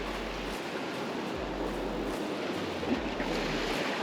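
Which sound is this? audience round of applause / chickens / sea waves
sea waves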